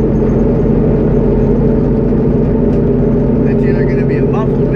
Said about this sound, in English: Guys, I do apologize if you really can't hear me over the car in this video.